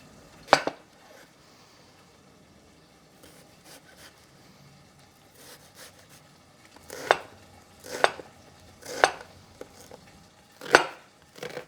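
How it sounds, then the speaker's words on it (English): A knife thuds sharply through an onion on a cutting board, a lone chop followed after a pause by a run of about five spaced, crisp cuts close by. "Let's go and start cutting our onion"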